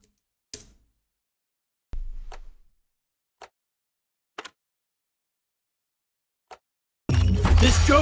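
A handful of short, sharp clicks spaced irregularly against silence, with one duller thump, ending in a sudden burst of loud, full-bodied sound, from menu clicking in the video game Deep Rock Galactic.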